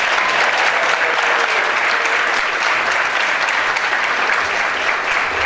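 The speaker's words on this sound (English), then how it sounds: "Let's give Martin Luther King a round of applause." Audience applause honoring an elementary school's music and art departments at a school board meeting, steady dense clapping throughout, loud and close, with no other sounds standing out.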